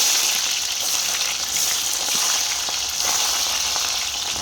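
Onions hit hot oil and fry, a continuous close sizzle and crackle that holds steady for several seconds with no talking.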